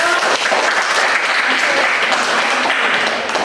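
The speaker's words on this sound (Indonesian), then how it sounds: "Iya, tepuk tangan." Classroom applause during a school lesson, loud continuous clapping from a group of students that stays dense and even throughout, close and without pauses.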